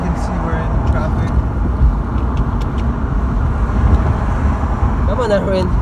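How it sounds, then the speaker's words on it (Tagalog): Steady broadband road noise from a car sitting in slow traffic, a continuous low rumble filling the whole stretch with faint higher chirps and hisses, while people talk over it. "So as you can see, we're in traffic."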